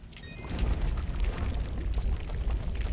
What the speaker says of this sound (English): we're gonna have to find a way to blow up a bomb rock wall